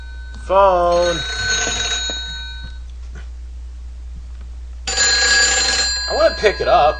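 Electronic telephone ringing from the video game Silent Hill 3, two bursts of ringing separated by a pause, loud and near, with a wavering tonal sound mixed in.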